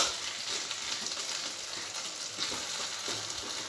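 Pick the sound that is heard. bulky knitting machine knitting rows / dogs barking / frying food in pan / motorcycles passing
frying food in pan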